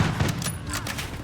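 Heavy gunfire in Call of Duty Black Ops 6, a brief, dense flurry of overlapping shots and sharp cracks, loud and close, with a voice calling out amid the firing.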